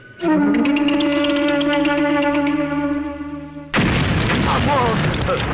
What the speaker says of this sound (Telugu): డమ్మీలు పేలినప్పుడు ఇంత భయపడితే ఒరిజినల్ పేలినప్పుడు చచ్చిపోతాయేమో